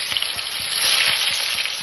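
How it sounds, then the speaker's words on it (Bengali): Potatoes frying in hot oil in a wok, a loud bright continuous sizzle with faint regular ticks of bubbling underneath. "আগে তেল গরম হয়ে গেছে, এখন আমি আলুগুলোকে তেলের ভিতর ছেড়ে দিলাম।"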